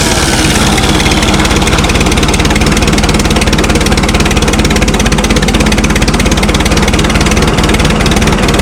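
Oliver 770 tractor engine running steadily and loud up close, a dense rapid firing rhythm with no pause, settling into a continuous idle.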